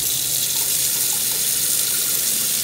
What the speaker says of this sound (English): I have some really good hot water in my sink